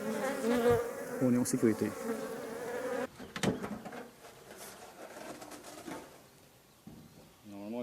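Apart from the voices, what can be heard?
honey bees buzzing around an opened beehive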